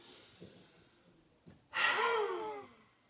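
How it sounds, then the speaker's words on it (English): A deep yogic inhalation during a hatha vinyasa session, one long, close breath drawn in for about a second after a couple of faint earlier breaths, alone in a quiet room. "Take a deep breath in"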